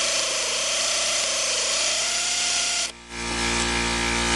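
A power tool whirs while loosening the steering column clamp bolt during engine removal on a Citroen D Series, a steady whine with a wavering pitch that cuts off abruptly near the end, leaving a lower hum.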